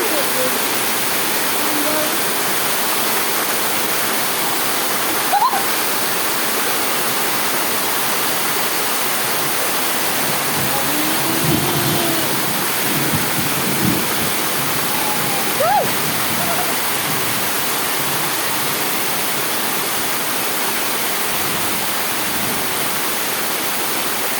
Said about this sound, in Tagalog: Grabe, ang lakas ng ulan. May kasama pang hangin.